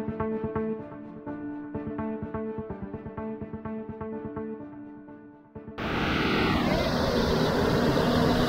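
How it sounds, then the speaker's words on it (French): A Tracker water bomber's engine drones with a pulsing, harmonic-rich propeller tone, then abruptly changes to a loud, steady broadband roar. "Il a fait baisser le moteur à droite pour que les autres ils puissent arriver."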